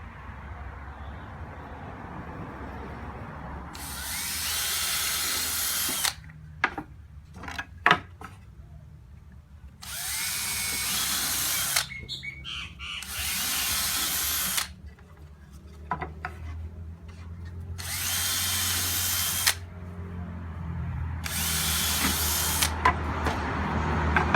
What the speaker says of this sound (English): The pilot hole is only just to stop the wood from splitting.